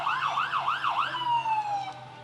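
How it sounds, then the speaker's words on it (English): An emergency siren at a county fair parade in Ste. Genevieve County, Missouri, wails loudly, sweeping up and down several times before settling into a long, steady tone that slowly fades. "the siren's getting quite loud"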